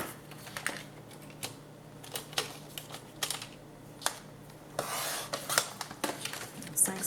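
Scissors cut paper into small square pieces for a scrapbooking project, giving a scattered series of short, crisp snips and rustles at close range in a quiet room.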